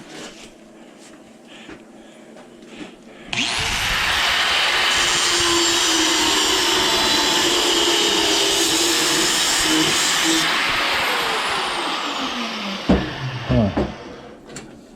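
Die grinder cutting copper and brass, a loud sustained high whine that starts abruptly, holds steady for several seconds, then winds down with a few clanks at the end.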